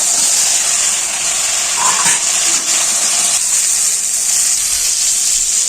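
Fried potatoes and ash gourd go into a pan of hot oil and spices, setting off a loud, steady sizzling hiss that holds evenly throughout.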